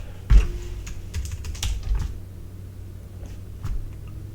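A command is typed on a computer keyboard: a handful of sharp, close key clicks in an irregular rhythm, with a louder tap at the start, in a quiet room.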